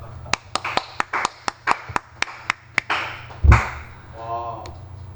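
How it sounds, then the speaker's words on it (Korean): About a dozen sharp, evenly spaced claps ring out close by in a quiet classroom during a CAD drafting lesson, followed by a dull thump and a short muffled sound. "박수 해주세요."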